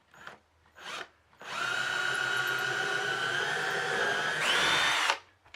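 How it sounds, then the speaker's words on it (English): A power drill pre-drills nail holes through a pallet wood bottom rail, a couple of short bursts followed by a long steady whine that rises in pitch near the end, close and loud. "I'm coming down about 1 1/8 inches and pre-drilling these"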